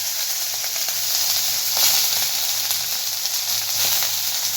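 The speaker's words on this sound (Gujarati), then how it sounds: "તો હવે ત્રણેય પ્રકારની જે આપણી જે કેપ્સિકમ છે એ ઇન્સ્ટન્ટ આપણે એડ કરી દઈશું" Three kinds of capsicum sizzle in hot oil in a wok over a high flame for a crispy corn chilli starter, a loud, steady, continuous frying hiss with faint stirring scrapes throughout.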